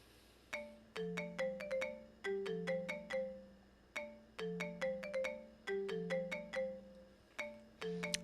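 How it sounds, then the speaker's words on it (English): A phone ringtone in the video game 9 R.I.P., a bright electronic melody of quick plucked notes repeating in phrases, clear and moderately loud, with no other sound beneath. "Lost in these thoughts, I heard my phone ring."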